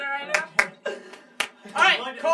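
A few separate hand claps, sharp and close, spaced irregularly for a music clap track, with people talking between and over them.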